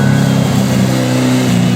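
A road car accelerates hard up a hill climb race course at Lučine, a steady, loud engine roar with a strained mid-pitched drone that holds throughout the short burst.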